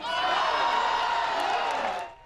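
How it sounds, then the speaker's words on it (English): A crowd cheers and whoops steadily at celebrity pickleball matches, loud and sustained before trailing off at the end. "As the games went on, the crowd cheered with anticipation."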